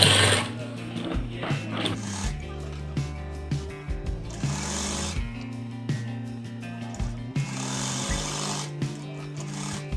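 A sewing machine stitches an apple cut shirt, running in steady motor bursts with short pauses between runs, close and fairly loud with a rhythmic mechanical whir.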